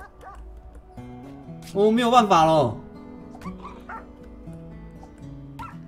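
A husky in the RimWorld video game lets out a loud, pitched whimpering yelp lasting under a second, with softer dog noises around it beneath an excited player's running commentary.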